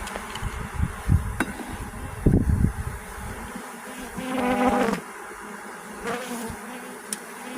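Bees swarm and hum steadily around a newly installed hive outdoors, a close, continuous buzzing that rises and falls as individual insects pass near, with occasional handling bumps and rustles.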